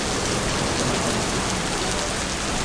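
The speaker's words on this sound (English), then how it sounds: "the rain is definitely coming down" Steady heavy rain pouring at an old hawker centre, a loud, even hiss of drops on surfaces with no break and no voices.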